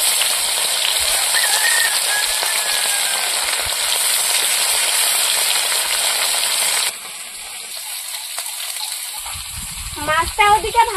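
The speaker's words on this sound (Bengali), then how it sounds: "এবার মাছগুলো ভেজে নেব।" Fish frying in a pan in a home kitchen, a steady loud hiss of oil that drops to a quieter sizzle partway through, with brief clattering near the end.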